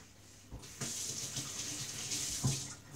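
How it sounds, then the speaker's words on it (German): Hands being washed under a running kitchen tap while baking, a soft, steady stream of water with splashy shifts as the hands move beneath it, fairly quiet and with no one talking. "So, Hände waschen."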